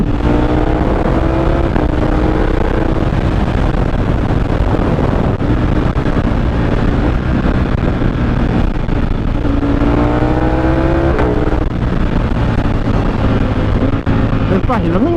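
Ducati V4S motorcycle engine running during a ride, a loud continuous drone with rising and falling rev tones and wind rush, a voice talking over it.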